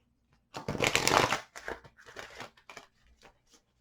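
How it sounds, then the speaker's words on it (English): A deck of tarot cards shuffled three times at a table, giving bursts of riffling, flapping card noise, loudest in one long first sweep and then shorter, fainter shuffles, close up with no talking. "I'm going to shuffle 3 times"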